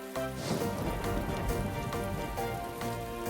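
Rain falling in the video game Toca Life World, a steady, fairly loud patter running throughout alongside cheerful game music.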